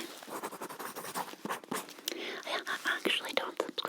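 A pencil scratches across paper up close in a quiet ASMR setting, making soft, rapid, uneven strokes beneath a low whispering voice.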